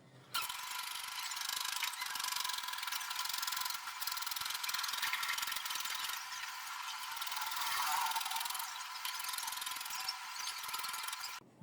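Scissors cut through a paper trouser pattern in a continuous, close rustling and crisp snipping that runs the whole length, with no talk.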